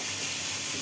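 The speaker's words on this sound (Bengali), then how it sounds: "কাঁচামরিচ তেলে ভেজে নিচ্ছি" Green chilies frying in oil in a home kitchen, a steady soft sizzle and hiss, faint and continuous.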